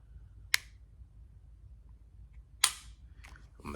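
Two sharp mechanical clicks from a budget 6-ray pistol's performance trigger being pulled and reset, crisp and close, spaced about two seconds apart with faint handling noise after the second.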